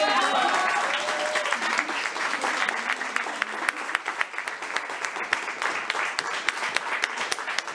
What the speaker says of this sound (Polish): więc wielkie brawo. Brawo!